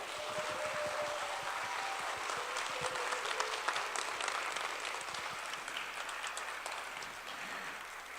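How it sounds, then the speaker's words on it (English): Steady, fairly distant applause from a large audience at the ASPAC 2024 science centre conference, continuous clapping filling the room without a break. "Why don't you give a big round of applause for all of us?"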